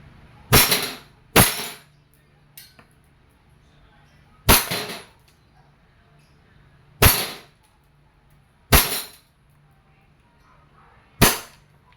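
A WE airsoft 1911 Type B gas blowback pistol fires six sharp loud cracks with slide clacks, spaced irregularly a second or more apart, close up with quiet pauses between.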